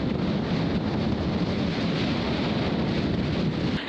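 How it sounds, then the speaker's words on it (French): Strong storm wind on the Emerald Coast roars continuously into the microphone, a loud, dense, steady rush with low buffeting rumble and no speech. "Quelle tempête, les amis!"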